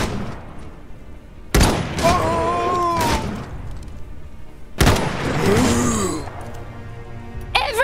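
Gunfire in the video game Iron Harvest, two heavy bursts of shots with booming impacts, each followed by shouting voices over a rumbling battle background.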